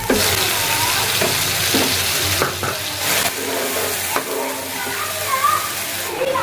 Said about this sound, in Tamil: இஞ்சி பூண்டு விழுது இது வெங்காயமும் தக்காளியும் அரைச்சி வச்சுருக்கோம் அதை சேர்த்துக்கலாம்